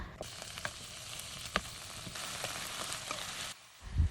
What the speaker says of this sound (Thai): ตอนนี้เราก็จะคั่วหมูกับน้ำไปเรื่อย ๆนะคะ